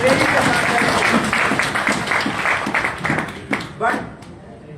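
An audience at a pensioners' rally claps, the applause rising under a speaker's amplified voice and thinning into scattered claps toward the end.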